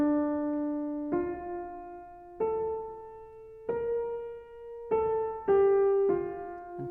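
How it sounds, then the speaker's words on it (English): Inverted subject from Bach's Art of Fugue played solo on piano, a slow line of six clear single notes, each struck and left to ring before the next, moving stepwise upward, heard alone with no voices. "So the inverted form sounds like this."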